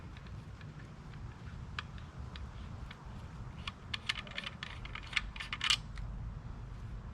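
Compass tip of a Sharvol survival shovel multitool being unscrewed, giving a run of small, light metallic clicks and scrapes at close range that grow busier toward the end, over a steady low background hum.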